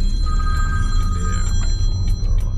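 A phone rings inside a car during a driving lesson through a Florida neighborhood, a repeating electronic ring pattern sounding over constant loud road and engine rumble.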